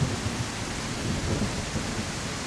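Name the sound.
thunderstorm with rain in a Jesus video game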